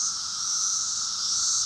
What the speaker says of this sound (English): That noise you're hearing is the mating call of a billion randy cicadas looking for love.